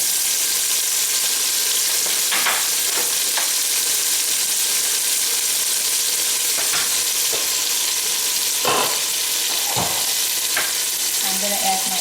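Onions and tomatoes fry for beef biryani in a steady, close sizzle, with occasional brief scraping clicks from stirring and no talk.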